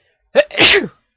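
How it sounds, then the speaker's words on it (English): A single loud, close sneeze: a short sharp intake followed by a forceful burst of breath. "Sneeze."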